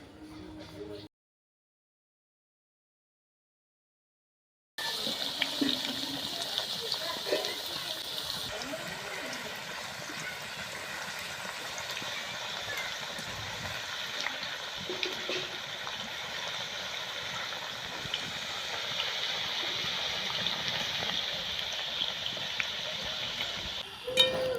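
Thin raw potato slices fry in hot oil for chips, a steady close bubbling sizzle running on after a brief silent gap, with occasional stirring clinks.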